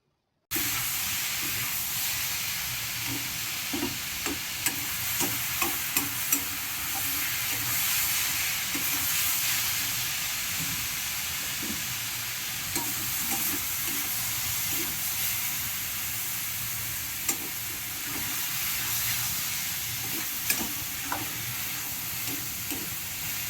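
Tomatoes and cabbage frying in a pan give a steady, loud sizzle and hiss, broken by scattered clicks and scrapes of stirring for about 23 seconds, with no voices.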